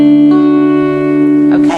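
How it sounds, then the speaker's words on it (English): An electric guitar with reverb and effects sustains one loud, ringing plucked note, and a fresh pluck enters near the end. "So just have a go at plucking those strings again."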